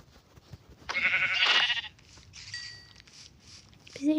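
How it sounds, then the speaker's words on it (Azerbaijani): A sheep in the Minecraft video game bleats once, loud and close, with a wavering, raspy call lasting about a second, followed by quieter game sounds with no talking. "Qoyunu ovlayaq."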